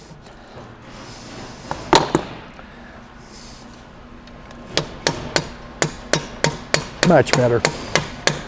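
A pin is hammered out of the mid-plate section of a Knight light tower with sharp metallic strikes: a few scattered blows, then a steady run of about a dozen evenly spaced hits, and a voice speaks briefly.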